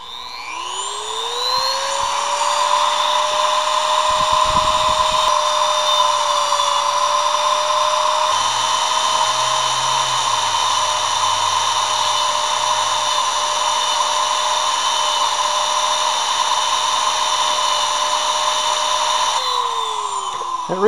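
A high-speed rotary tool with a cutting disc spins up with a rising whine and grinds into an RCA promotional tube, a loud, sustained shrill tone holding steady before winding down at the end.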